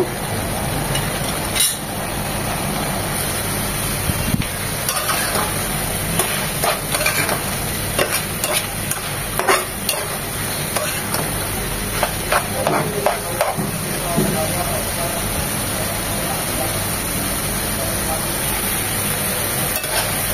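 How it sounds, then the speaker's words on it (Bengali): Water lily stems fry in a pan as their released water cooks off, with a steady background sizzle punctuated by repeated scraping and clinking strokes of a spatula stirring them, close and fairly loud over the whole stretch. "এভাবেই একটু পরপর নেড়ে চেড়ে শাপলাটা ভাজা ভাজা করে নেব"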